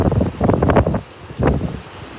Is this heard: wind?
yes